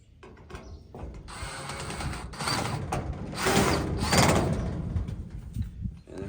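A power driver whirs in bursts as screws are driven in during storage shed assembly, several rising and falling runs at close range with clunks and handling noise between them.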